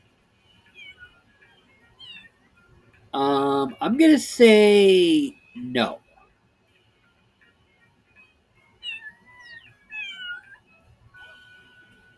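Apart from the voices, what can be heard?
cat meowing in the video game Little Kitty, Big City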